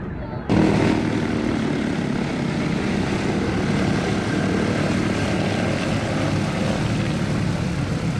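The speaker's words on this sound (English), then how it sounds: "I love the sound of these aircraft." A steady, loud propeller aircraft engine drone kicks in after a brief moment and holds a constant throbbing roar throughout.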